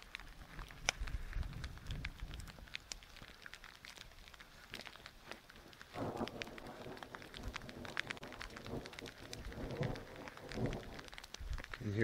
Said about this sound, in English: And yes, it's starting to rain.